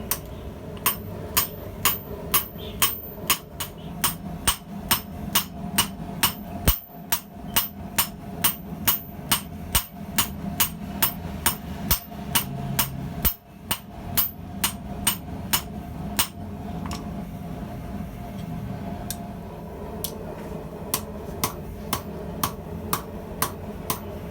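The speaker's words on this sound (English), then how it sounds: "why am I hammering the blade edge into this V-swage?" Steady, rapid hammer blows on metal as a utility knife blade edge is hammered into a V-swage, several dozen sharp ringing strikes in a fairly even rhythm, close by, with a brief pause partway through.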